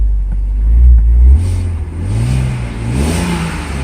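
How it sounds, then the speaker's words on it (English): A 2005 BMW Z4 3.0i with a throaty exhaust revs briefly from idle, a deep close rumble rising in a short blip and settling back down, then a smaller second rise. "It's got a nice throaty exhaust."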